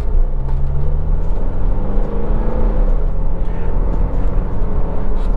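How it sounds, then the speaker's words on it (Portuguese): Steady, loud rumble of a car under hard acceleration with the throttle wide open, heard from inside the cabin as a continuous drone with rising engine tones and no voices. "Então eu dei quase uma acelerada aqui na capacidade máxima de aceleração, abri o acelerador mesmo"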